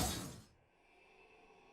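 Glass ATM doors shatter as a truck rams them, a loud crash at the start that breaks into a short burst of falling shards, then drops to a faint, quiet tail.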